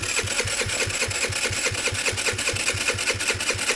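A TaoTao GY6 scooter engine runs at a steady idle, its fast, even putter close and alone with no talk.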